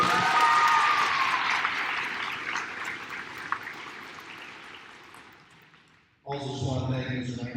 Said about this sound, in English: let's give her a little round of applause